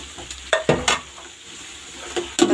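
Sliced capsicum goes into a hot pan of chicken fried rice and is stirred. Loud, close scraping and clattering come in short bursts over a soft, steady sizzle, with no talking.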